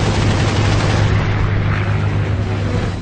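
A short burst of fighter jet cannon fire in an air combat scene, a dense loud roar of rapid shots sustained for about three seconds with no voices.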